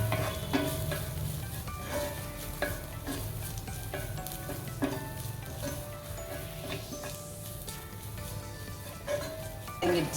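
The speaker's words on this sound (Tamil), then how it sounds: "இது எல்லாமே நம்ம இந்த இன்க்ரீடியன்ஸ் எல்லாம் நல்லா வதக்கணும்" Spices and other ingredients for Pondicherry chicken bonda are sautéed in a pan, with a soft background sizzle under repeated sharp clinks and taps of a spoon stirring against the metal, close and uneven.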